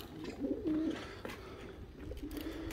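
A pigeon in a backyard coop gives low, soft coos, one near the start and another near the end, heard faintly over a steady hiss of background noise.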